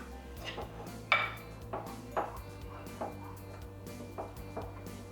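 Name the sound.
mixing no-bake brownie mixture in a bowl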